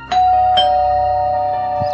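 A house doorbell rings at the front door with a clear electronic ding-dong, two bright tones followed by a long ringing decay, loud and alone.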